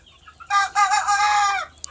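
A broiler chicken on a poultry farm lets out one loud, drawn-out squawking call up close, cut off by a brief faint click at the end.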